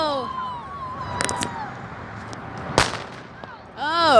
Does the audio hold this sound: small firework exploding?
yes